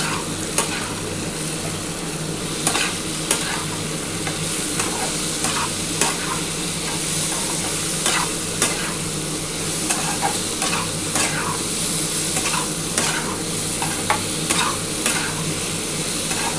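Pumpkin and egg mixture with a pinch of ground cumin being stirred in a frying pan, loud steady sizzling punctuated by regular sharp spatula scrapes and taps against the pan, no one speaking.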